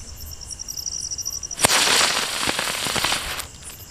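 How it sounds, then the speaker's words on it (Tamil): A Sivakasi-made Scooty firecracker goes off: a sudden sharp bang followed by a dense, sustained crackling and fizzing that lingers for a couple of seconds, with insects chirping steadily in the background before it. "ஸ்கூட்டி வெடி ட்ரை பண்ணலாம்"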